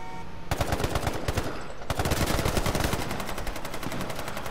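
Dense automatic gunfire from the H1Z1 Battle Royale video game, loud and nearly continuous rapid bursts with a brief pause near the start, filling the whole stretch with no talk.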